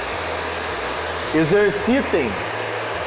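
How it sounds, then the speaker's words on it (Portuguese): A hair dryer blows hair dry with a steady, loud whooshing hum throughout while a voice speaks briefly over it mid-clip. "continuando secando com a direita e com o secador nessa posição"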